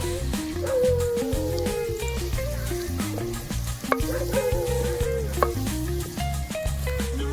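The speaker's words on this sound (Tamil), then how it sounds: "வெங்காயத்தை பொன்னிறமா வதக்கலாம்." Onions sautéing golden in a pan with curry leaves for an egg gravy, a steady sizzle with occasional stirring scrapes running under louder melodic background music throughout.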